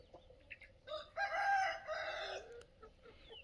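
Free-range desi chickens and a rooster on a farm, with one loud, close rooster crow rising out of quiet farmyard clucks and no talk.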